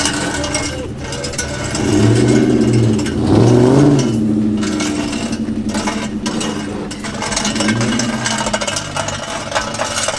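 Honda Del Sol fitted with a new cheap aftermarket exhaust, driving past with a rising and falling engine note, revving up mid-way, while voices talk over it.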